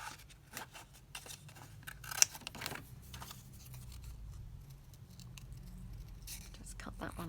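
Scissors snip out a paper butterfly close up, giving a quiet series of crisp cuts and paper rustles in uneven bursts, with a soft voice murmuring alongside.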